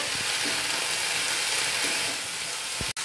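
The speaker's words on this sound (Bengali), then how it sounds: "এবার ভালো করে ভেজে নেবো।" Water spinach frying in a pan with sugar, salt and turmeric makes a steady, close sizzle with light stirring, ending in one sharp knock.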